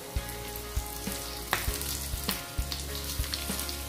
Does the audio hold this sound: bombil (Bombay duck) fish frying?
yes